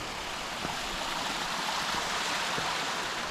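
A stream running through the Magome-juku post town in Japan gives a steady, soft broadband rush of flowing water, continuous and even, with a few faint knocks.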